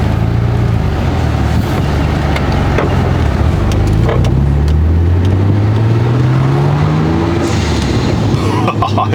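A Nissan R34 GTR engine drones loudly from inside the moving car, pitch climbing in long sweeps as it accelerates through the gears, with a hissing burst near the end.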